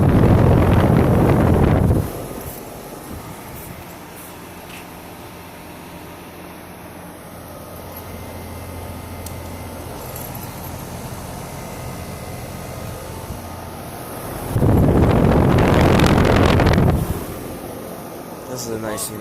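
A 2010 Weatherking 3.5-ton central air conditioner runs with a steady low hum, masked at the start and end by loud bursts of wind buffeting the microphone.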